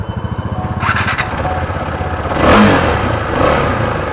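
A KTM 390 Adventure motorcycle with its stock exhaust and dB killer still fitted idles with a thumping pulse, then revs up and holds. The tone is fairly muted and close by, with no talk.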